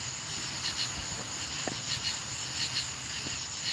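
Insects chirp steadily at night near a riverside catfish fishing spot, a constant high, pulsing trill with faint clicks and rustles close by and no voices.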